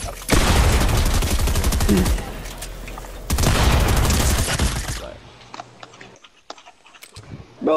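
Video game gunfire bursts out in loud, rapid automatic volleys for several seconds, pauses briefly and then bursts again before fading into quieter scattered sounds.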